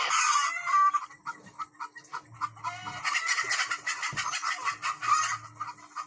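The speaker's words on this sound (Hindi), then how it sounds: "आप लोग देख सकते हैं यहाँ भी मुर्गियां अंडे के ऊपर बैठी हुई है।" Desi hens sitting on a clutch of eggs on a small poultry farm, giving soft repeated clucks and calls with a rooster-like call mixed in, fairly close and continuous with no talking.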